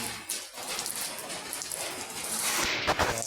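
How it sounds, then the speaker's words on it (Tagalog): Steady rain pours down in a continuous wash of hiss and patter, with scattered drops striking close by. "Naabot na tayo ng ulan."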